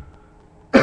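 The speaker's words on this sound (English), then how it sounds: "I'm still coughing, of course." A single sharp cough from a man with a sore throat and bad cold bursts out loud and close at the very end, after near silence.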